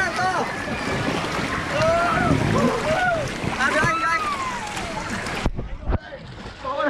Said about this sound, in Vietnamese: Sóng này không bằng sóng biển mấy nhưng mà phê phết mọi người ạ